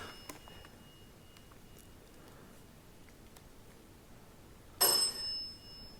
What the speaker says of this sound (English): It's just a bell.